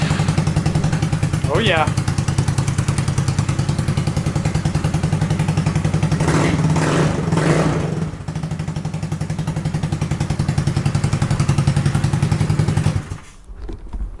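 Honda Ruckus scooter fitted with a GY6 engine running close by with a steady, buzzing idle, a few revs swelling midway, then cutting off near the end; a voice briefly speaks.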